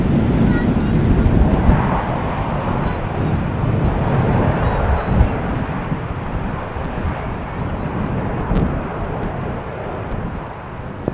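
A Transavia airliner rolls at speed along runway 18R at Amsterdam Schiphol after a crosswind landing, giving a steady, loud, broad roar with wind buffeting throughout.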